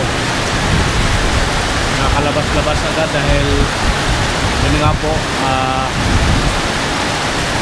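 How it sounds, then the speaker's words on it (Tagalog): Heavy rain pours steadily outside a room in Bugallon, Pangasinan, a dense continuous hiss that fills the scene while a person talks over it. "sobrang lakas po yung ulan dito sa lugar na to"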